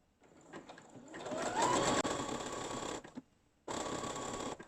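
A sewing machine runs a zigzag stitch over elastic on a bra cup, a close, fairly quiet whirring in two bursts split by a brief pause.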